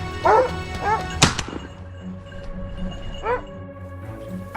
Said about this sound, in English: The hounds barked fiercely.